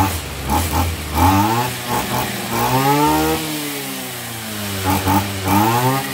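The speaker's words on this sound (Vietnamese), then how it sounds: "Rồi để mình nổ cho nó lớn cho các bạn xem ha." A 27cc CB2700S brush cutter with a 34 mm bore, a Japanese-used 2007 machine, revs loudly and close by, its two-stroke engine note rising and falling in repeated bursts and holding steady at high speed.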